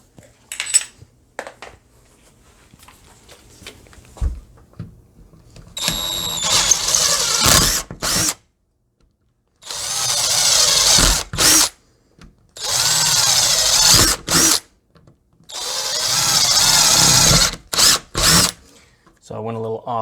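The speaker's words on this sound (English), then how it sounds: "And next we'll go ahead and drill them out." A power drill bores holes to fit a door latch for home security, running in several loud bursts of a few seconds each with short pauses, plus a few clanks and handling noises between them.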